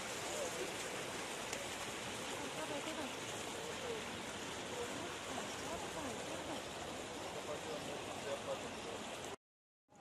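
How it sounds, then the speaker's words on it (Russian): A small waterfall at Pamukkale flows down the white travertine terraces with a constant, even rushing hiss that is moderately loud and unbroken until it cuts off abruptly near the end. "Вот тут такой водопад течет."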